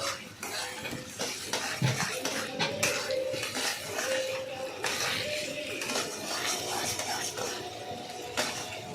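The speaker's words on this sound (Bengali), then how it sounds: "ভালো করে নাড়াচাড়া করে এটাকে মিশিয়ে নিলাম।" Sola kochu (taro) paste stirred in a pan, with repeated scraping and clinking of a metal utensil against the cookware, close and steady, with faint background tones.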